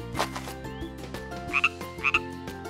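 A cartoon-style frog croaks in a children's bedtime story, with several deep rhythmic croaks over a musical background and a couple of sharp chirpy accents near the end.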